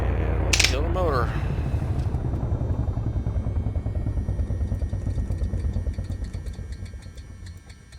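Light aircraft engine shutting down in the X-Plane 11 flight simulator, a click and brief whirring sweep followed by a rhythmic chugging that slows and fades away over several seconds.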